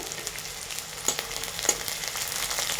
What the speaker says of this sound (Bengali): কাঁচা লঙ্কা রসুন পেঁয়াজ একসঙ্গে ভাজছি